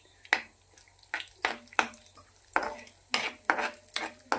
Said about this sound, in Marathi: काजू, बदाम आणि पिस्ता हे आपल्याला तुपावर चांगल्या रीतीने भाजून घ्यायचे